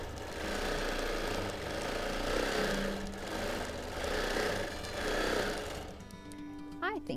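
Quilting machine stitching free-motion edge-to-edge quilting, a steady motor drone that swells and eases across several passes, with a voice talking over it.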